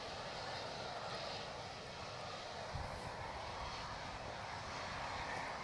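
A military aircraft drones steadily overhead during parachute training near a park and bike path in Seoul, heard as a constant, fairly distant engine rumble with no speech over it.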